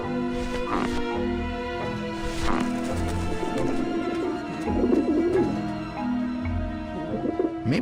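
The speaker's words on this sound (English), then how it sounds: "the pigeons obviously like this dish vent." Pigeons coo around a dish vent in the game Grim Fandango, their soft repeated calls layered over a steady droning hum and low rhythmic thuds.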